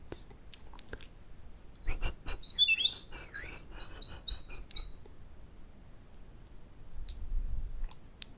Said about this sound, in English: You'll awaken the birds.